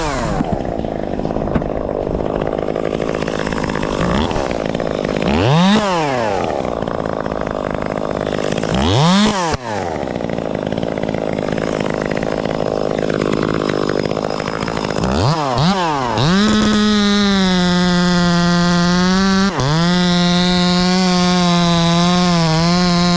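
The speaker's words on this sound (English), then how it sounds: "the teeth of the chainsaw got stuck on the rigging" A chainsaw works on tree wood during tree work, its loud engine revving and bogging in repeated sweeps, then settling into a steady high whine near the end.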